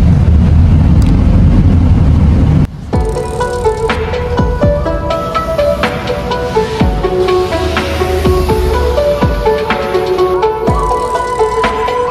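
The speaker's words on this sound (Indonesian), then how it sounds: "Kita udah ada di dalam bus menuju ke Chinatown." Inside a moving bus in Manchester heading to Chinatown, a steady loud engine and road rumble fills the cabin, with rattles, clunks and a sharp jolt early on, and no talking.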